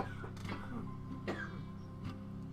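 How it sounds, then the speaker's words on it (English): A few short coughs sound in the background at irregular intervals, fairly faint, with a steady low hum underneath. "please excuse my wife coughing to death in the background"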